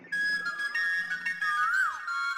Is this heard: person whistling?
yes